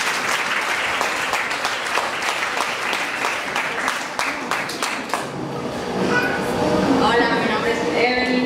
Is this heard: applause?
yes